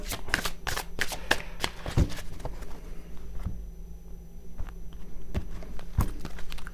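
A deck of tarot cards being cut and shuffled at a card reading, with a run of crisp snapping riffles and slaps that repeat at an uneven pace, heard close and alone.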